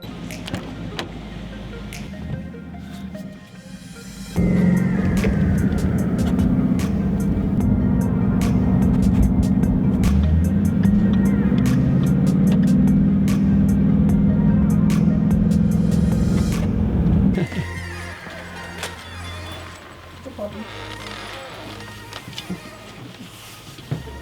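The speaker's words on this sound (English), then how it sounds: "get this thing on the dyno, so that way we can see what kind of stock horsepower numbers we're working with" Stock Ford Mustang GT S550 with manual transmission and bolt-on mufflers running on a dyno, a loud sustained engine roar building up through the middle and then cutting off, with quieter mechanical noise before and after.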